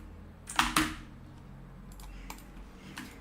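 A loud computer keyboard clacks close by: two sharp prominent keystrokes, then a few softer scattered taps over a low background hum.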